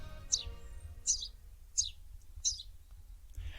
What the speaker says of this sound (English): And the answer is a house sparrow.